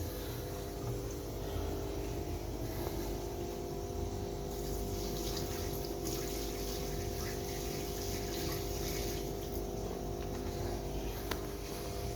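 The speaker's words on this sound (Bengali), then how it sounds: "এবার উপরে এই জলটা আমি চেঞ্জ করে নিচ্ছি" Water is being changed in a container of tubifex worms, heard as a continuous pouring, trickling wash of liquid with a faint mechanical hum beneath it.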